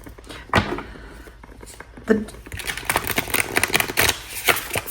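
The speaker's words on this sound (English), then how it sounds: "these are hard to shuffle" Tarot cards being shuffled up close, a quick run of crisp riffling flutters and taps that grows busier and denser toward the end.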